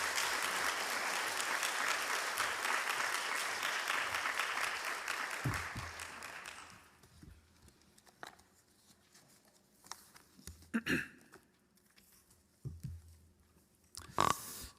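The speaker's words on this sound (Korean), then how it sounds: "큰 박수로 환영하도록 하겠습니다" Church congregation applauding loudly and steadily to welcome a pastor to the front during a Sunday worship service, the clapping fading after about seven seconds into a quieter hall with scattered knocks and shuffles.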